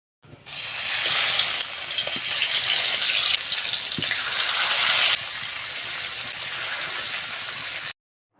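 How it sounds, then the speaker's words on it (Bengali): Fish frying in hot oil gives a loud, continuous hissing sizzle that swells and shifts in intensity, then cuts off abruptly. "মাছগুলো ভাজার জন্য একটা একটা করে মাছ কড়াইয়ে দিয়ে দিব"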